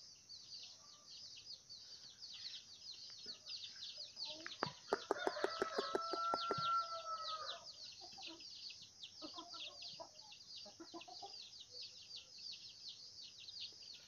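Small mini chickens with yellow cheeks, about seven months old, give soft clucks and a brief burst of sharp calls midway, faint against a constant high chorus of insects outdoors.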